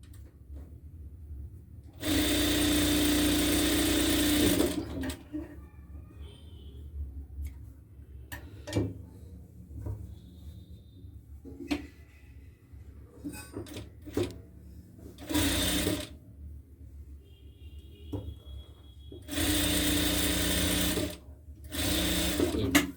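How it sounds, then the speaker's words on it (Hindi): A sewing machine stitches the waistband of a Patiala salwar in several loud sustained bursts of a few seconds each, separated by quieter pauses with light handling ticks and clicks. "चलिए अब इस पटियाला को सिल कर भी बता देता हूँ।"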